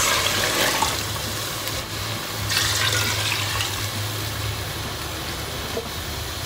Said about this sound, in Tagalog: Pwede natin siya lagyan ng tubig guys.